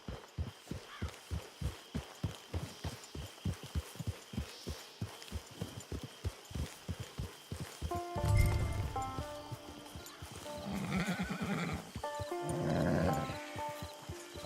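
A horse in Red Dead Redemption 2 clops along in a steady, even hoofbeat rhythm that runs for several seconds, then gives way to louder snorting and neighing bursts near the end, with no speech.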